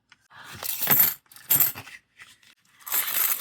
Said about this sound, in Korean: 그래서 동전을 한번 넣어볼까요?